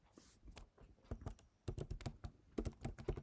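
Quick bursts of keystrokes on a computer keyboard while an SQL query is entered, close and clear, with irregular clusters of taps and short pauses between them.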